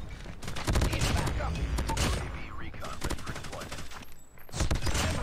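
Rapid automatic gunfire from a gun in a first-person shooter video game, dense crackling bursts nearly continuous and loud, with a brief lull before more shots and someone talking underneath.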